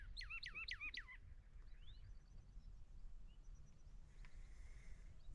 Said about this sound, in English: Check out the bird.